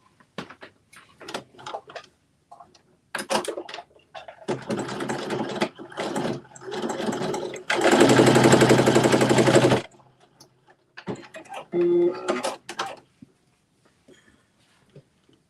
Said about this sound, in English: Now you're going to stitch to close the opening of the top of the pocket.